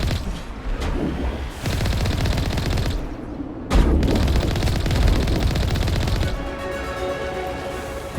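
Rapid bursts of automatic gunfire and single shots crackle close and loud in a Mass Effect firefight against snipers on Noveria. The bursts come with short gaps and no voice over them.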